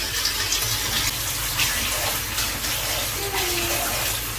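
Foraged mushrooms are washed under a running tap with a steady, close gush of water that splashes and spatters throughout.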